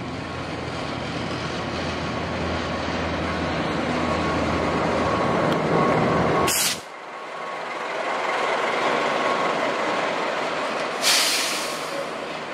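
Locomotive train moving slowly onto a turning track, a steady broad rumble and rolling drone throughout, cut by a brief sharp break midway and another short burst near the end, with no voices.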